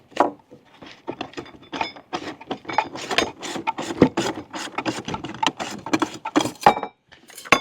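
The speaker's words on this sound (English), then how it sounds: "the whole filter canister screws off. This is just a collar" A plastic collar on an RV water filter canister being unscrewed by hand, giving a close, steady run of rapid ratcheting clicks and rubbing scrapes with no talk.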